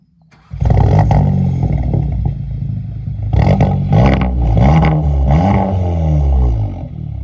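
A Volkswagen Golf 7 GTI 230 starts off and accelerates, its engine rising suddenly to a loud, close roar, then surging in several revving pulses as it pulls away.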